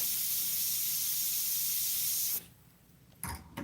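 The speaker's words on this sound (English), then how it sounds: "So I'm going to dry it with the airbrush." An Iwata airbrush blows a strong, steady hiss of air for about two seconds to dry paint on Claybord, then cuts off, followed by a couple of short, sharp bursts near the end.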